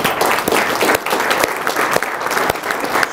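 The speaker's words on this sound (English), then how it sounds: "We can give him a round of applause." Audience applause at a community public event, a steady round of many hands clapping for about three seconds, fairly close and alone without talk.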